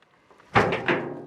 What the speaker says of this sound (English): I swear this door opens.